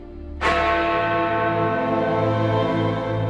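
Big Ben, the great bell in the Elizabeth Tower clock at Westminster in London, strikes once and loud, then leaves a long, rich hum that rings on and fades slowly.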